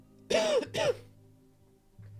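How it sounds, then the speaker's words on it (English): A person coughs twice in quick succession, two loud, harsh bursts about half a second apart during a tabletop Dungeons and Dragons session, then only a faint room hum remains. "that's a cough."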